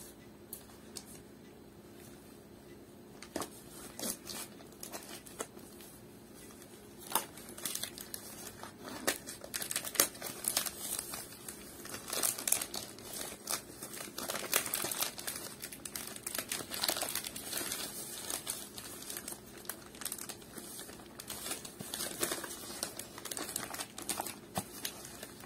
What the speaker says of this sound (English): I have the last package to open here.